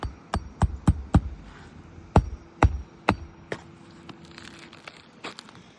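A hammer strikes nails in a quick run of sharp, ringing blows, then slower spaced hits, ending with lighter tapping and rustling.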